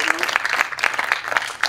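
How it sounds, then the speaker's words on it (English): An audience at a book tour event in Tulsa, Oklahoma claps together, a brief, dense patter of many hands, fairly close, with a voice speaking over the applause. "let's give a big round of applause to everyone"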